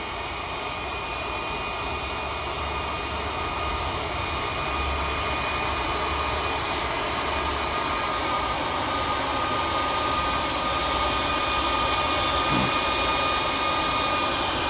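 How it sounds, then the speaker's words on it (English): A Yarbo robotic yard machine runs its blower module, giving a steady, loud, continuous rushing whoosh that holds unchanged from start to end with no talking. "you can have it running on the different speeds as far as the blower goes"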